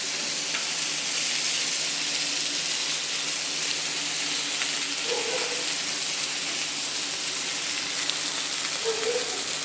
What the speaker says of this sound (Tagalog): Natilamsik ang mantika.